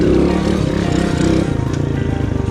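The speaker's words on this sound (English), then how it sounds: "clutch in, rev it up" A motorcycle engine revs loud and close with the clutch pulled in before a wheelie, a rough throbbing roar that swells and wavers, then settles into a lower, pulsing idle-like rumble.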